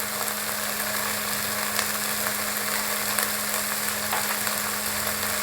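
Spice paste with salt and chilli powder frying in a pan for Bengali chingri posto, a steady dense sizzle with a constant hum underneath, no voices.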